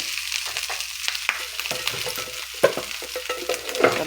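Fried rice with minced fish and egg being stirred in a pan, a close crackling sizzle broken by irregular scraping and clattering strokes of the spatula.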